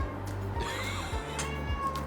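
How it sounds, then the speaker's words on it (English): A pet cat meows repeatedly in the background, drawn-out tonal cries rising and falling at moderate volume over a steady low hum. "if you hear a cat in the background"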